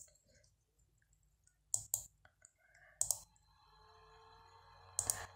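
Light clicks on a computer keyboard while typing a command in AutoCAD 2022, a few quiet scattered keystrokes in small clusters against a near-silent background.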